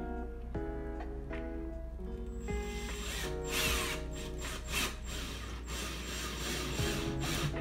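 A power drill drives a screw into a shelf of a children's wardrobe, a whirring motor in short bursts over a faint background hum.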